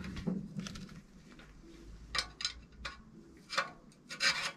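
A left-hand thread on a DT Swiss R470 rear wheel hub is tightened during a bearing replacement, producing faint close rubbing and rasping bursts of metal turning, irregular and quiet.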